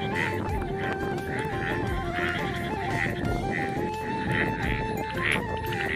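Ducks at a rural village home call out in repeated nasal honking quacks, loud and close, over a steady background of rain and outdoor noise.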